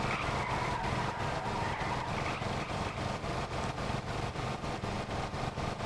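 A truck with dual wheels drives in fourth gear in Stormworks, its engine holding a steady droning roar with a pulsing, evenly repeating rhythm, faint and continuous with no talk.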